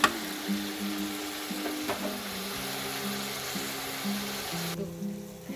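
Half a kilo of tomatoes sizzles steadily in a hot pan, a continuous close frying hiss with a few stirring knocks, no talking.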